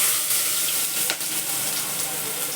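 Star anise, cloves, black pepper and onion drop into hot oil for a spicy mutton dish, giving a steady, close broadband sizzle with a brief sharper crackle midway and no talking.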